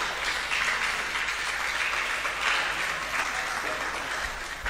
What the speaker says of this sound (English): Let's clap for them all.